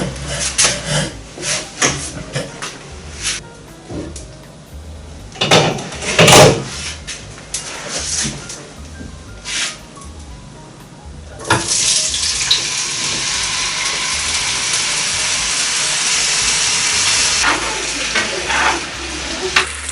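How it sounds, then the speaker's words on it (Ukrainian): Potatoes, already salted and peppered, tumble from a container into a hot oiled frying pan with clattering knocks and scraping, then a loud, steady sizzle of frying takes over and continues to the end. "Тепер нам залишається висипати її на розігріту пательню змащеною олією"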